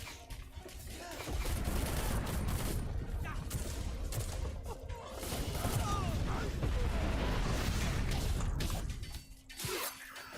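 Video game gunfire comes as dense, sustained bursts of rapid shots and crackling impacts for most of the span, briefly dropping off near the end, loud and close.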